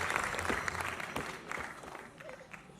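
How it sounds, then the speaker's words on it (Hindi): Dense, steady applause from the crowd at a grand musical show, clapping for the sponsors. It sounds fairly full and close, then eases slightly toward the end. "ज़ोरदार तालियां सभी स्पॉन्सर्स को।"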